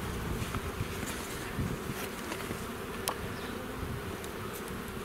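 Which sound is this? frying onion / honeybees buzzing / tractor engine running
honeybees buzzing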